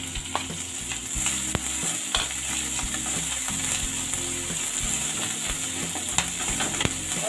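Green chilli and ginger frying together in a pan, a loud close sizzle with constant crackle and repeated scraping knocks from stirring.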